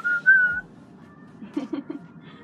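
A person whistles a short tune, a clear pure note at first, then a few quick chirpy notes, nearby and fairly loud.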